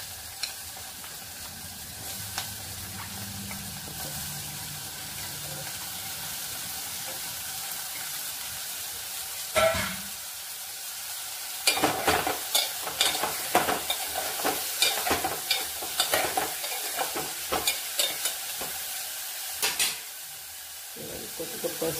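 Ridge gourd pieces added to browned onion in a pan sizzle and fry with a steady hiss, growing louder as they are stirred and scraped with repeated clatters over the second half.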